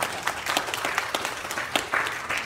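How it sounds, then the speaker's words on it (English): A Baptist church congregation at a homecoming service gives a round of applause, a brisk uneven patter of many hands with a few louder claps, moderately close. "Give ourselves a big round of applause for that."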